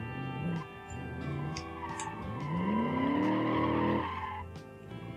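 A Ford XW GTHO in BeamNG Drive taking off in second gear with wheel spin: engine revs climb in a rising tone with tire squeal over it, building to a loud sustained whine before easing off near the end.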